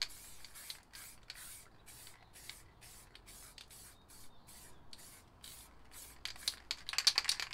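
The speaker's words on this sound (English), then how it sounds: "We'll do the same as this, just spray a bit in the middle." Spray paint can, MTN Hardcore or Montana White, spraying paint in a series of short hissing bursts with brief pauses between them, close and fairly quiet, with no talking.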